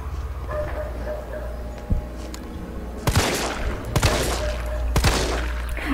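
Gunfire in the Resident Evil 3 remake video game: a few sharp shots, then two or three loud bursts spaced about a second apart over a steady game background.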